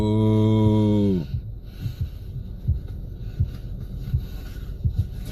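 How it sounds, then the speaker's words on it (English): A steady tone fades out, and then a heartbeat thumps in soft, regular lub-dub pulses, a quick steady rhythm of low beats heard close up. "You hear how fast her heart is beating"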